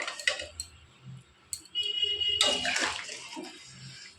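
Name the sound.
water being poured into a cooking curry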